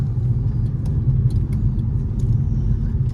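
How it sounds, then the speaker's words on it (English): Road traffic passing outside a parked BMW F30 335i, a low steady rumble of car engines with a few faint clicks, moderately loud and without talk. "Traffic."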